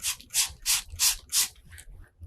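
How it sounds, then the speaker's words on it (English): Repeated spray bursts of Material Magic fabric stiffener into a Ziploc bag, five evenly spaced hissing pumps and a shorter sixth, close and crisp, with no talking. "spray your Material Magic in with that"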